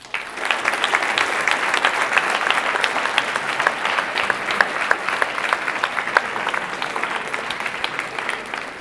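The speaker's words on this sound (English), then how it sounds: "Can we give a round of applause, please?" A live audience applauds at the close of a talk on leadership, steady dense clapping that holds at an even level for the whole stretch with no voices over it.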